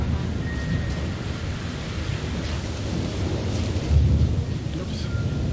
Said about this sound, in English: It seems more like a thunderstorm.